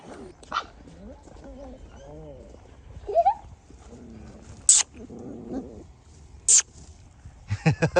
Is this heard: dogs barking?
yes